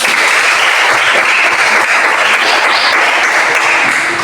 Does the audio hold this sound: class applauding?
yes